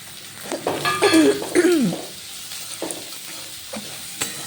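Mung dal frying with green chilli, grated coconut and chickpeas gives a soft sizzle with stirring scrapes, while a nearby person coughs and clears their throat loudly partway through.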